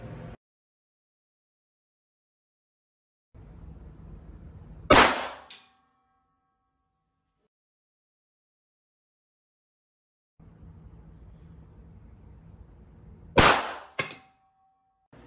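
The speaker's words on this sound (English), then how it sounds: "let's have a look how this works out in gel when fired through four layers of denim." Two sharp .32 ACP pistol shots from an Underwood Xtreme Defender fired into ballistic gel through denim, each a loud crack with a short ringing tail, separated by about eight seconds of quiet with faint handling noise before each.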